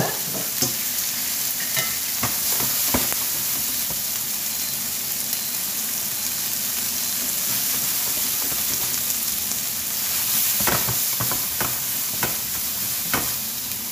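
Bell peppers frying in a pan in meat juices left from chicken and merguez, a dense steady sizzle up close with occasional stirring scrapes and sharp utensil taps.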